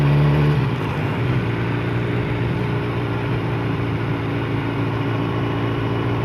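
A BMW S1000R motorcycle engine drones steadily close by while riding, with a short higher note at the start that drops as a gear changes, then holds an even hum.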